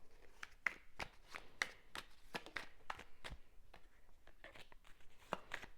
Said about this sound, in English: let's get a few shuffles